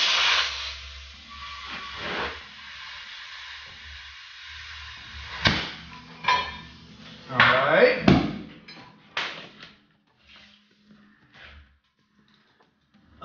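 Air suspension bags on a crew cab truck inflating, with bursts of pneumatic hiss and clunks of the rising body, then quieter near the end; a voice talks over the start.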